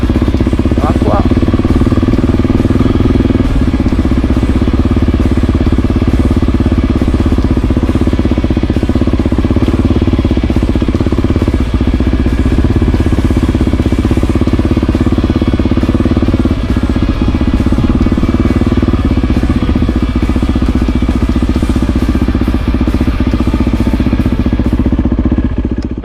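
Motorcycle ridden slowly into a parking lot near a Costa Smeralda beach in Sardinia, a steady loud engine drone with light mechanical clatter and wind throughout, close to the rider the whole time.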